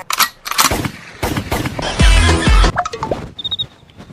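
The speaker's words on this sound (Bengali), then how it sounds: "গুলি মারলি কারে?" Gunshot sound effect: a string of sharp, loud cracks and bursts, including a sustained rapid burst like automatic fire in the middle, with scattered clicks and pops around it.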